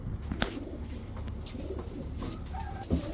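A pair of Palla line pigeons, male and female, give soft low coos mixed with a few light chirps and a brief flutter of wings near the end, fairly faint and close.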